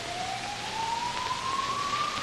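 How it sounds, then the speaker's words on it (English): A single faint, far-off police siren tone rises slowly and steadily over a cold, windy hiss, with no other distinct sounds and no voices. "In the distance, the sound of police sirens and humanity struggling to survive can be heard."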